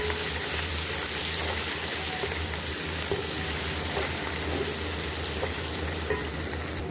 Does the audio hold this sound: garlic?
yes